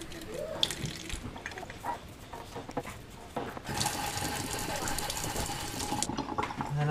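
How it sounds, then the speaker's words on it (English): An aquarium heater is scrubbed under a running tap at a sink, with water splashing and hissing in the basin, then a steadier, louder stream in the second half, alongside handling clatter. "Just try to wipe it down as best as I can. Can even scrub it a little bit."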